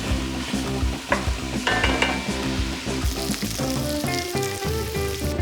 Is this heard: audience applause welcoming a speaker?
no